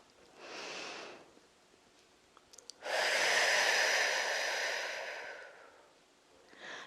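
Breathing during a Pilates spine-mobilising exercise: a short soft inhale, then after a pause a long, loud, airy exhale lasting about three seconds, close to the mic, with another breath starting at the end.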